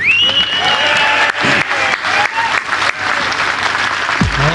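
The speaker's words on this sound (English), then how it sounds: "give a round of applause for James Glancy" Loud audience applause and cheering at a Brexit Party political rally in Newton Abbot, a dense sustained wall of clapping with whistles rising over it, close and continuous, with a brief thump near the end.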